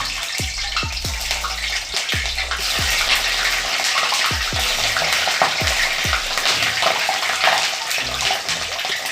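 Loud, steady sizzling of cauliflower frying in hot oil, with a few clanks of a spoon stirring the pan at irregular intervals.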